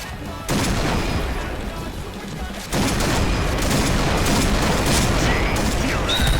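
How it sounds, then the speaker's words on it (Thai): Rapid gunfire in the video game Point Blank, a loud, dense, unbroken fusillade of overlapping shots that grows heavier partway through, with faint speech underneath. "ยิงกันรัวชิบหายอยู่ไหนกะ"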